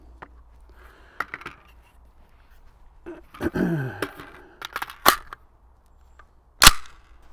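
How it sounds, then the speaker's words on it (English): A Perun X16 rifle chambered in 300 Blackout, fired outdoors with a few sharp, loud reports spaced seconds apart, mixed with handling clatter and quiet breathing between shots. "I'm just going to shoot 3 rounds"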